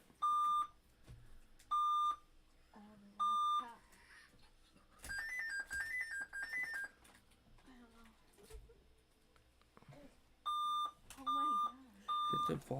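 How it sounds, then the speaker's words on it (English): Loud electronic beeps repeat in short, evenly spaced bursts from a laptop, with a longer warbling tone partway through. Someone talks in the pauses between them. "What the hell is beeping?"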